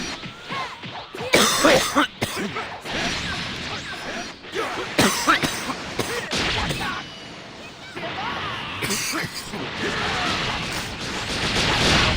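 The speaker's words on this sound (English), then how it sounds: "Sorry if I'm coughing while I'm smoking weed." A person smoking weed while gaming coughs in repeated harsh, close bursts, with rough throat-clearing hacks and scattered knocks and a few spoken words between the fits.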